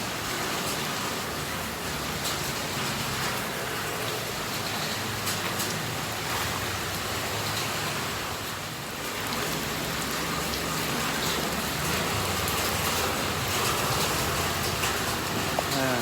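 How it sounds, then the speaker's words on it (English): A steady, heavy mid-afternoon downpour in Bac Lieu, Vietnam, pours down in a constant broadband hiss, with a faint engine rumble and occasional low voices underneath. "This is when you have downpour in mid-afternoon."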